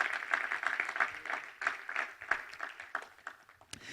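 A church congregation applauds during a Spanish-language sermon, brief scattered clapping heard fairly faintly for a few seconds.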